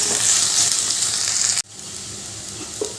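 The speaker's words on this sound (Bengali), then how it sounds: "বেগুনগুলো দিয়েও ভালো করে ভেজে নেব" Long thin slices of eggplant frying with potatoes, a loud bright close sizzle that cuts off abruptly midway, then a softer steady fry continues with a faint clink.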